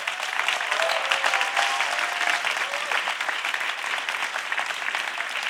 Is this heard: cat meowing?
no